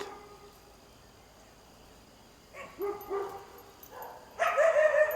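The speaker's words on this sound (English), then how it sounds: "Dog is barking at a feral cat that's on the other side of the fence" A dog on one side of a fence barks in alarm at a feral cat, a few separate bursts after a quiet start, moderately near, with faint insect-like hiss in the background.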